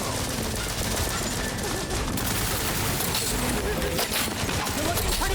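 Rapid, sustained gunfire from The Outer Worlds 2 fills the whole stretch with dense crackling bursts, loud and continuous, mixed with busy game sounds.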